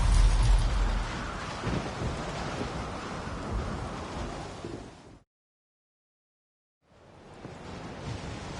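Thunderstorm in The Witcher video game: dense rain and low thunder rumble loud and steady for about five seconds, cut to silence, then the storm wash returns more softly.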